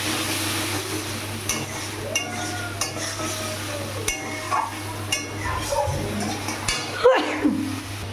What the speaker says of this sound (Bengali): পেঁয়াজটা আর একটু ভাজা ভাজা হোক